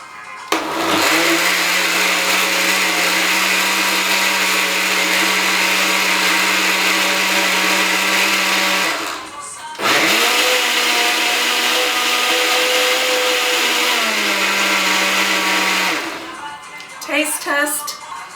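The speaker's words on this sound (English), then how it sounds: "Then we're going to blend." Countertop blender mixing coquito ingredients with nutmeg, two long steady whirring runs separated by a brief stop, loud and close, then a few clunks at the end.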